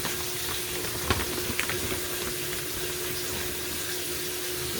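Steady rush of water pouring into a machine drum, with a couple of faint clicks and knocks over the continuous flow.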